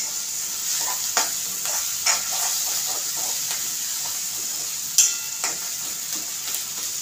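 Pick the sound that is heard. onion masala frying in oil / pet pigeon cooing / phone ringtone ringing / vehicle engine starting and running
onion masala frying in oil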